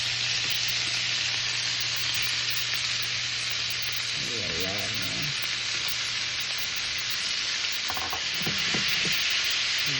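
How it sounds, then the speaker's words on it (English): Meat frying steadily in a pan for Peruvian arroz tapado, a continuous sizzle with brief stirring scrapes and a low hum underneath. "I'm gonna put in the meat to start frying it."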